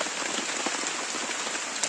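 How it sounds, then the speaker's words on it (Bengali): Steady rain falls all around, a dense, even hiss of drops on surfaces that stays constant and close throughout, with no voices. "বৃষ্টি চারিদিকে পড়ছে"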